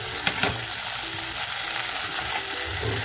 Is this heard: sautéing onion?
yes